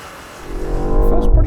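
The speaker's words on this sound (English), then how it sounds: "I'm in launch control mode, so left on the brake, floor the throttle, build some boost" A BMW M135 under launch control, engine held on the brake with the throttle floored to build boost, then released; a loud low engine roar swells steadily and rises in pitch, close and alone.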